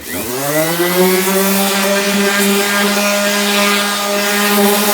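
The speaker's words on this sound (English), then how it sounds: "And we're just gonna sand it." A cymbal is power-sanded to strip its lacquer, producing a loud, continuous whirring drone with a strong ringing tone that rises at the start and then holds steady throughout, close up.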